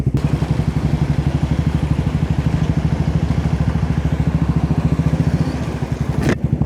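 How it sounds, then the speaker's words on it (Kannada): A motorcycle with a changed silencer, fixed after a loose bend pipe, idles close by with a steady, smooth, rhythmic thumping exhaust pulse that runs evenly throughout. "ಈಗ ಬೈಕಿದ್ದು ಸೌಂಡ್ ಸ್ಮೂತ್ ಆಯಿತು."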